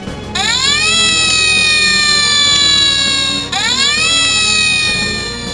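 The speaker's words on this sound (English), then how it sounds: "Flynn and Bell left with sirens blazing." Rescue vehicle sirens from Thomas & Friends, with Flynn and Bell setting off with sirens blazing, wail loudly and close by in two long rising-then-steady sweeps, the second restarting partway through.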